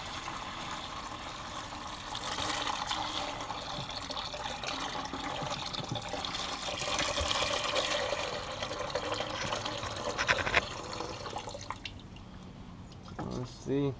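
Old water drained from a gas tank pours steadily into a bucket, a continuous splashing gush that runs for several seconds before thinning to trickles and drips near the end.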